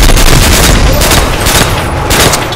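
Loud, close bursts of booming blasts and rapid gunfire crackle in a World at War zombies game, a dense, chaotic volley with no talking.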